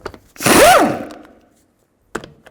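A single powered impact wrench whirs and winds up for about a second while loosening a lug nut with a 17mm socket on a 2003-2009 Mercedes-Benz E320 wheel, followed by a short metallic clack afterward, close and loud.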